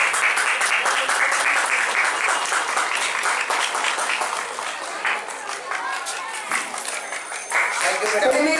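Sustained audience applause fills a school's annual sports day gathering, dense clapping from a large crowd with an announcer's voice talking over it.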